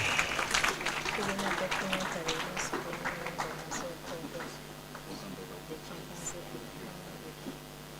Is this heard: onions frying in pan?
no